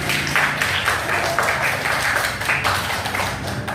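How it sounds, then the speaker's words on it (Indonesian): A class of students claps together in a classroom, a loud, fairly steady patter of hands with rhythmic surges, lasting several seconds without speech. "tepuk tangan untuk video tadi"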